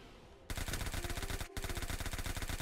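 Rapid automatic gunfire from shooting enemies in the roguelike shooter Ruindog, loud and continuous bursts with a brief pause in the middle, following a quieter start.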